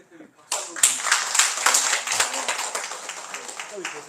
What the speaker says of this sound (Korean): 오늘 다행히 수고하신 최강 대표님 박수